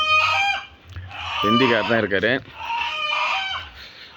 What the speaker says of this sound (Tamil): இந்த இடத்துல நாட்டுக்கோழி கோழி வளர்க்குறாங்க நண்பர்லாம் சேர்ந்து.